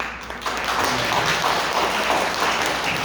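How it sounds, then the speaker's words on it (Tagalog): Congregation applause for God during a Sunday church worship service, dense continuous clapping filling the room and building quickly after a quiet opening moment. "Mas malakas na palakpak sa ating Panginoon"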